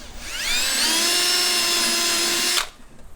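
A handheld power drill drives screws into a butcher block tabletop, one steady high whine of about two seconds that holds at full speed and then stops sharply, loud and close with no talking.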